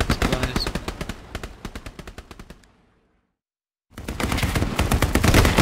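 Rapid machine gun bursts in the World War II shooter game Hell Let Loose at Hill 400, loud and close, cutting off into a second of silence before heavy firing resumes.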